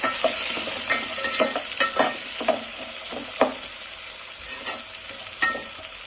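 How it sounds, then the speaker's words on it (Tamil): Chopped onions and four green chillies fry in a hot pan for coconut milk rice, a steady sizzle broken by repeated scraping stirs of the spoon, close and moderately loud, with no talking. "வெங்காயம் போட்டோம் அதோடவே சேர்த்து ஒரு நாலு பச்சை மிளகாயும் போட போகிறோம் எல்லாம் சேர்த்து மிக்ஸ் பண்ணிக்கலாம்"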